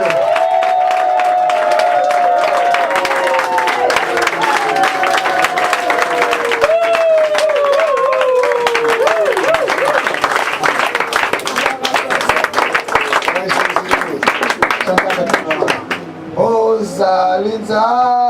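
A church congregation applauds and cheers continuously to welcome a prophet. Clapping and crowd voices run throughout, with a sustained singing or chanting voice over the top. The sound fades slightly near the end.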